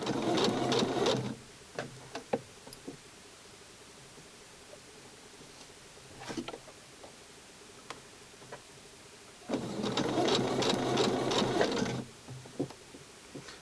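A sewing machine stitches the armhole of Barbie doll clothes in two whirring runs at the start and end, with scattered faint clicks and handling sounds in the quiet pause between.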